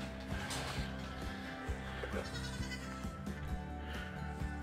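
Goats bleat now and then inside a barn, mixed with a steady mechanical hum and rhythmic clanking nearby.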